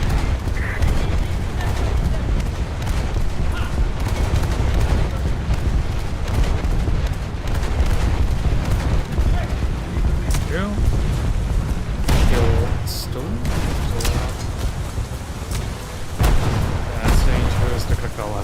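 Secondary guns on a French warship pound away in World of Warships, a dense, continuous barrage of booms and artillery-like thuds with battle noise layered over it, and a voice talks through the firing.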